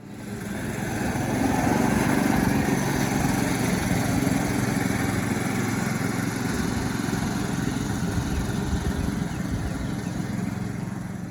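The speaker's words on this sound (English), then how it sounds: "I've had to force the mower a bit, but I need to get that lawn off of there" A lawn mower engine drones steadily at close range, running continuously under load while cutting wet grass for several seconds, with no talking.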